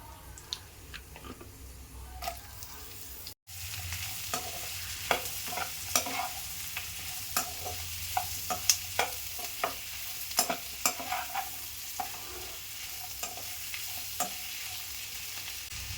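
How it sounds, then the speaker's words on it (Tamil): Onions sautéing in butter left over from frying paneer in a pan, a steady close sizzle with frequent sharp scrapes and clicks of a stirring spoon throughout, no voices. "பன்னீர் பொரிச்ச அதே பட்டரில் வெங்காயம் வதக்கலாம்."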